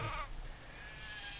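A sheep in the video game Craft The World lets out a short, nasal bleat at the start, followed by soft game ambience.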